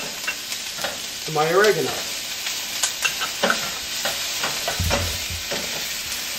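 Onions, peppers, garlic, basil and oregano are stirred quickly in a pan over high heat for sausage and peppers, giving a steady sizzle with scraping strokes as someone talks over it.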